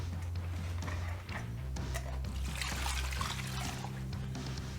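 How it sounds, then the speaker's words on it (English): Marinade is poured over about a pound each of turkey legs, giving a soft, steady trickle and light liquid splatter close by, with a low background hum underneath. "We're just going to pour the marinade in."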